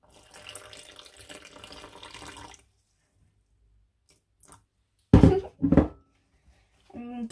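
Water runs into bread dough for a couple of seconds with a light splashing trickle. A pause follows, then a few short, louder, close bursts of sound.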